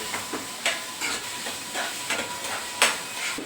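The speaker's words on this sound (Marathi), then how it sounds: "त्याची थोडी आपण जरा आणि टोमॅटोची ग्रेव्ही करून घेऊया। थोडा भाजून घ्या व्यवस्थित।" Tomatoes sauté in a pan for matki bhaji gravy, making a continuous steamy hiss with rhythmic soft scraping strokes as the pieces are stirred, close and even in loudness.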